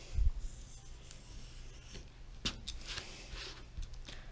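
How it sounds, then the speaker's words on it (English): Blade cutting along the edge of a LokBuild flex plate, soft scraping and rubbing strokes with a few sharper scratches, close and quiet, no voices. "And then we're just going to cut along the edge of the flex plate."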